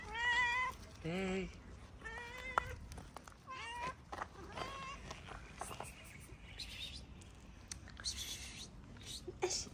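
Several cats meowing in short, high repeated calls near the microphone, with birds chirping in the background and a person speaking softly and whispering between the meows.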